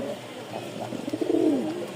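A Rajshahi Giribaj pigeon, the female of a pair, gives a soft, low, throaty coo that swells near its end, heard close up in a loft.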